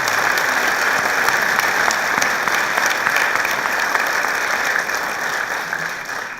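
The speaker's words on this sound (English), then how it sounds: "Please join me in giving our sponsors a round of applause." A room full of people applauds event sponsors at a children's leadership award ceremony, a loud, dense roar of clapping that holds steady and then slowly tapers off.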